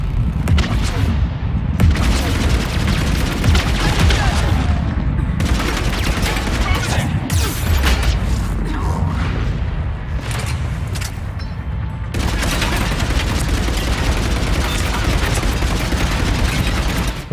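Heavy gunfire in Mass Effect 3, loud and close, with rapid bursts and booming shots pounding almost continuously, broken by brief gaps between volleys.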